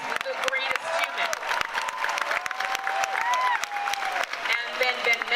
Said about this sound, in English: let's applaud him, because he's the greatest human